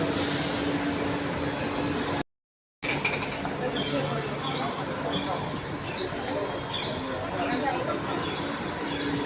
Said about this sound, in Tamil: ட்ரெயின் போகிறது எடுக்கலான்னு பார்த்தா எடுக்கவே முடியாது.